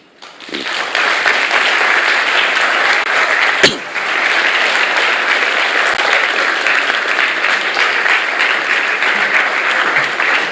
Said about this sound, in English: We need another round of applause because that was truly, truly amazing.